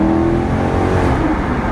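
A 2011 Maserati GranTurismo S engine revs hard, a loud, steady, close-up roar with rich layered tones and no talk over it.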